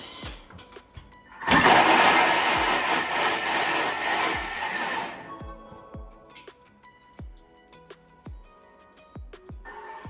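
A kitchen machine blade chops sweet potato soup ingredients with olive oil in a loud, steady whirring burst of about four seconds, then stops, leaving light clicks and taps.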